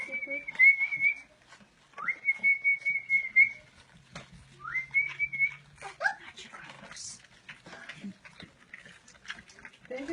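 A person whistles to puppies at their first feeding, giving three long, steady whistled notes. People talk nearby and puppy noises are heard between the whistles.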